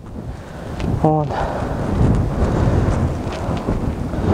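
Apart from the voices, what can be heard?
strong wind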